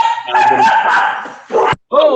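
A dog indoors gives a drawn-out whining yelp followed by short sharp barks, loud and close, with a person's voice nearby.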